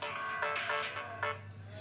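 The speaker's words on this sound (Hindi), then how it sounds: "फोन आ गया है" Phone ringtone for an incoming call: a quiet, melodic electronic tune with a few pulsing notes, playing faintly with no speech.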